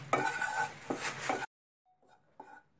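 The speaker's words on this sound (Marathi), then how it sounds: "आता हे मी ह्याच्यामध्ये हे चण्याचं पीठ बेसन घालून असं परतून घेणार आहे" Gram flour (besan) is stirred and roasted in a hot pan with a spoon, close scraping strokes for about a second and a half, then a pause and a few fainter scrapes.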